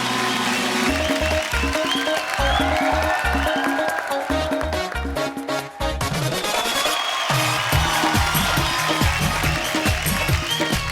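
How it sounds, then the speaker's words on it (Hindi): A television comedy show's studio audience claps for the film actresses who are guests, while loud music with a driving beat plays over it. "तो जोरदार तालियां बजाएं"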